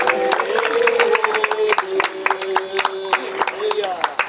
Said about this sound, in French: Applaudissez avec plus d'enthousiasme.